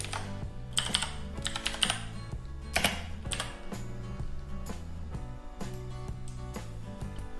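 Steady typing on a computer keyboard as a folder name is entered in graphic display software, quick close keystrokes over quiet background music.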